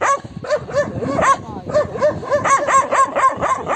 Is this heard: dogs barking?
yes